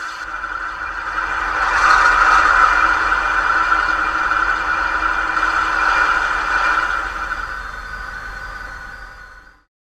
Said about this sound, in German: F3 Motorsound Startmotor 2.